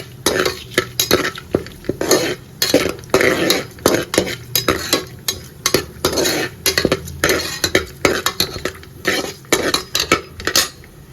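Cashew nuts sizzling as they are fried and stirred in a pan for vegetable pulao, with repeated scraping and clinking of a spoon against the pan in an uneven rhythm, close and moderately loud, with no talking.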